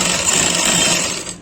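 Sewing machine running steadily as it stitches a folded cloth hem on trousers, a close, continuous whirring hum that holds even for over a second before easing off at the end.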